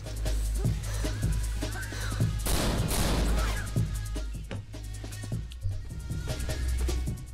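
Gunfire in the fast action shooter Severed Steel, sharp shots and a denser burst of fire over a low steady game drone, with a voice talking quietly underneath.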